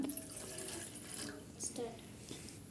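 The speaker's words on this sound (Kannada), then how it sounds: "ಫಸ್ಟ್ ನಾವಿಲ್ಲಿ ಒಂದು ಪಾತ್ರೆಗೆ 1 ಕಪ್ಪಷ್ಟು ನೀರು ಹಾಕ್ಕೊಳ್ಳೋಣ." Water is poured into a cooking pot for homemade pasta: a faint, steady splashing stream lasting a couple of seconds, with no voices.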